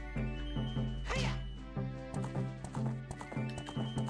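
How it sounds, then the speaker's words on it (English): Horse hooves gallop in a steady repeating rhythm in Ocarina of Time, with a brief whinny near the start, set against game music and fairly close. "We got a horse."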